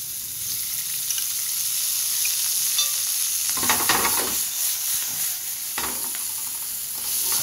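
Wagyu beef fries in hot oil in a pan, a loud constant sizzle that swells into bursts of crackling and popping midway, close and continuous with no speech.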